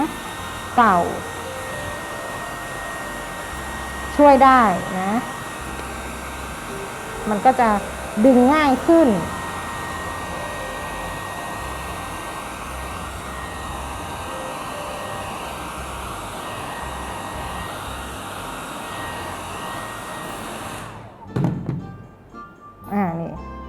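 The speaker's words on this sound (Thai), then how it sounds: "ดินน้ำมันมันแข็งแล้วก็ สามารถใช้ไดเป่าผม" A hair dryer blowing steadily on modeling clay during relief sculpting, a continuous whirring hum running under a woman's intermittent speech before cutting off near the end.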